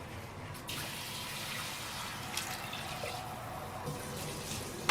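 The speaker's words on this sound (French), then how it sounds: "je vais couvrir le riz avec une eau tiède et laisser cuire" Lukewarm water poured over rice in a cooking pot makes a steady, soft splashing pour lasting several seconds, close and fairly quiet, with no talking.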